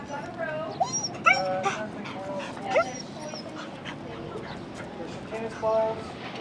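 Excited dog whimpering and yipping in high, wavering bursts at a reunion after an Oklahoma tornado rescue, close and continuous, mixed with chatter from people nearby.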